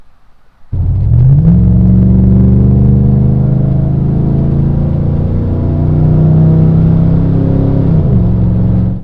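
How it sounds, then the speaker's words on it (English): A truck's V8 engine bursts into a loud, deep rumble after a brief quiet start, holding a steady throaty idle with revs rising and easing in pitch, close and alone. "There's a very few things in the world that can turn a bad mood around better than a rumbling V8 engine."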